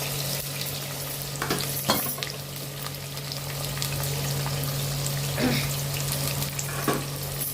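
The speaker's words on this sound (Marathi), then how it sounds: "ते सर्व टाकून मग व्यवस्थित हलवून घ्यायचं। चांगले ब्राऊन होईस्तोवर त्याला व्यवस्थित होऊ द्यायचं।" Chopped onion and ginger-garlic paste frying in hot oil, a continuous moderate sizzle with a few scraping stirs of a spoon at intervals, and no one speaking.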